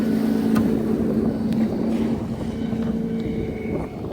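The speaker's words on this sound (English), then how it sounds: "Did you really have to come that close and give me a wake?" A motorboat passing close beside a small sailing dinghy on open water; a steady engine drone with wind noise and water wash, fairly near and continuous.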